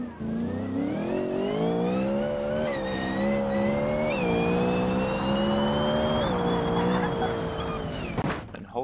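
A supercharged V8 racing-style car engine in BeamNG revs hard and steadily, holding high sustained pitch with slight rises and dips for about eight seconds before cutting off abruptly near the end, loud and close with no talk.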